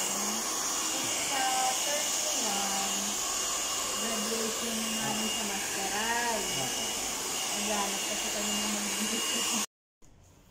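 A hair blow dryer drying hair after a rebonding treatment, a close, loud steady whoosh that runs without break and cuts off abruptly near the end, with a voice talking underneath.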